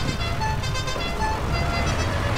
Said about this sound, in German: Hör dir mal die Hupe an.